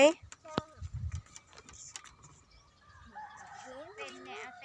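A chicken clucks and squawks nearby in short bursts, followed by someone talking over faint background noise.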